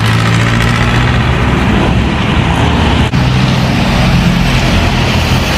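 A Honda motorcycle engine idles steadily, a continuous low throbbing rumble at close range with no talk over it, holding an even level from start to finish.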